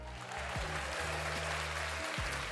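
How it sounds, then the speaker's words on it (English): An audience applauds for the speaker's dad, a steady wash of clapping beneath a low, droning background hum. "let me give us some round of applause"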